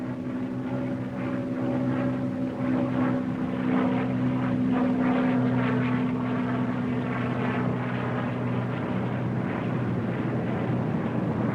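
A WW2 warbird propeller fighter with wide landing gear and a lockable tail wheel comes in to land, its engine a steady, loud, droning roar that holds throughout with no voices.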